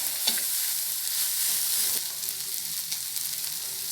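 Coriander leaves sauté in a pan with a loud, even sizzle close by, broken by a few light stirring scrapes.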